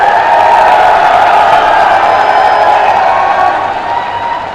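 A large crowd at a political rally for Yogi Adityanath in Moradabad applauds and cheers loudly and continuously, a roaring wash of clapping and voices that eases slightly toward the end.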